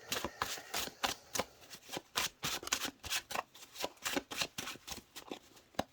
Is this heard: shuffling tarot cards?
yes